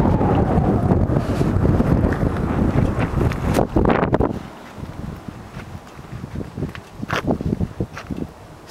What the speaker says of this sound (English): Oh, you hear the wind?